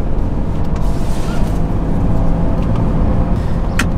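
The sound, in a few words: turbocharged car engine revving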